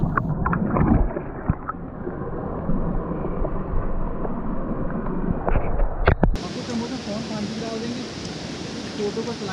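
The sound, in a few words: sound of water at Mahasar Taal lake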